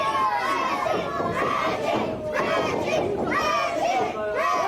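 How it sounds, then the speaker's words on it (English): A loud wrestling-event crowd cheering and shouting in an arena, a dense roar with rising whoops and yells sustained throughout, voices layered over one another. "Everybody cheering for Reggie Cassidy"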